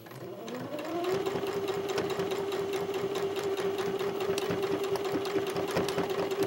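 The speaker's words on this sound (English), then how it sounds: "Okay, now we've stitched this whole circle." Sewing machine stitching a fabric crown onto the top of a hat, its motor whirring steadily and loudly after a brief start, running continuously with a fine rapid needle rhythm throughout.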